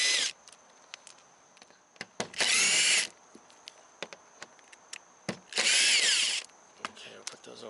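A power tool backs small Torx screws out of a panel on an Alfa Romeo Stelvio Ti Sport, giving two loud, sustained whirring bursts of about a second each, separated by softer clicks and handling taps.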